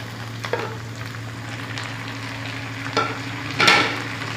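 Onion and tomato frying in a karahi for beef keema, with a steady sizzle under occasional stirring scrapes and clinks, one louder clatter near the end, no talking.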